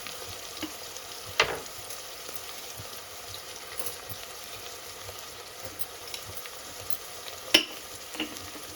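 Goat head meat fries in a pan with salt and spices, a soft continuous sizzle broken by occasional scraping stirs of a spoon, fairly quiet and close.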